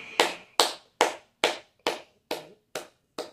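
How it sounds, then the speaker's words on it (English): Eight slow, evenly spaced claps ring out one by one, crisp and fairly close, with short silent gaps between each beat. "I gotta give a round of applause."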